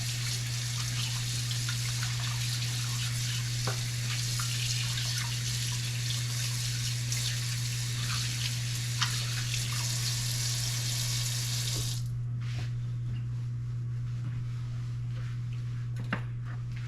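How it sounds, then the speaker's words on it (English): Running tap water splashes steadily into a kitchen sink while hands are washed, a constant close hiss that stops abruptly near the end, leaving quieter room sounds and a few small clinks. "So, let me wash my hands."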